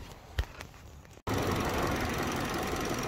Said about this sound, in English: we're gonna leave our cap off now and run our engine